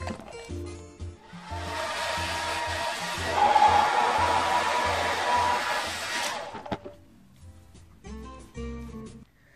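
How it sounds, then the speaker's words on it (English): A hair dryer blows steadily as it dries hair pulled through a brush, a loud broadband whoosh lasting about six seconds before it cuts off, followed by quieter rustling and handling sounds. "make sure you drag it down all the way to the bottom until your hair falls out between the brush and the hairdryer"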